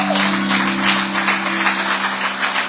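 A church congregation claps together in a continuous, dense patter of applause under a sustained musical drone.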